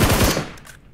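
Automatic gunfire in PUBG Mobile rattles off in a loud, rapid burst that cuts out within half a second, leaving a short fading tail.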